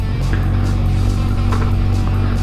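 A Honda CB350F four-cylinder motorcycle runs on a test ride after carburetor pilot screw and cam chain tensioner adjustments, a continuous loud engine drone with a steady low hum and some wind noise.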